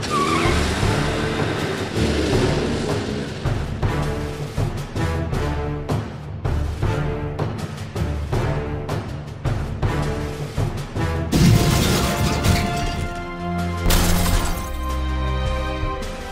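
A car is driven off with tyres squealing and skidding, then crashes, the engine and impacts loud and close throughout, with music-like tonal layers and a sharp burst of noise partway through; no one speaks.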